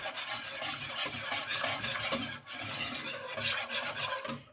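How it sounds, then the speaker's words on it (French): A roux of butter and flour for a monkfish blanquette is whisked in a pan, giving a steady close scraping and rasping stir with a faint sizzle, continuous for several seconds with brief pauses. "Vous mélangez bien pour pas qu'il y ait de grumeaux."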